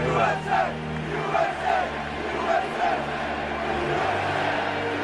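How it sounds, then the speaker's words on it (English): A large crowd of fans at Yankee Stadium chants USA, with the rhythmic rising and falling shouts of many voices filling the ballpark continuously and loudly. "The crowd just erupts in a chant of USA."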